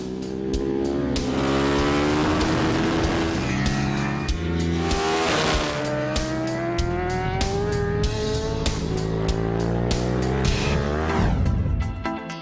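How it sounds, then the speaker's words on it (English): Racing motorbikes scream around the Pannonia Ring circuit, loud high-revving engines rising and falling through gear changes, with a bike passing close by near the end. "Here, motorbikes race around the circuit with a completely different intensity."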